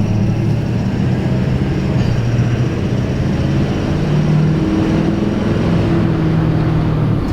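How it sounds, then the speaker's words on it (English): Ford Powerstroke diesel dually pickup idling, its exhaust giving a steady, loud, low rumble with a dense broadband drone that holds evenly throughout, close up with no voices. "So we'll get you guys a little shot of the exhaust."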